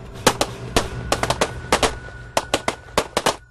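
Rapid handgun fire on command at a pistol training range: about fifteen sharp, close cracks in quick clusters and doubles over a few seconds, with no voices.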